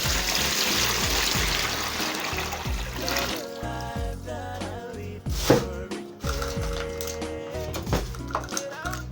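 Warm water poured into a container for washing dried onions, a steady trickling pour that fades into lighter dribbles and a few clinks of a pot or utensil near the end.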